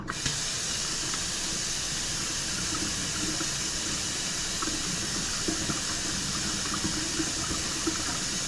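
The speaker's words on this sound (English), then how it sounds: "when you get to the green beans, you're gonna just drain that juice out just like that." Juice drained from canned green beans pours in a steady hissing, splashing stream, close and continuous, with no talk.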